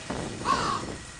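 Crows caw in the video game Thirty Flights of Loving, giving a couple of harsh, raspy calls in quick succession, close and moderately loud, with no speech.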